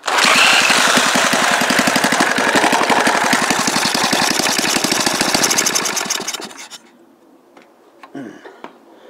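An old petrol engine running without a spark lead chugs loudly and rapidly for about six seconds, then dies away, leaving quiet with faint knocks.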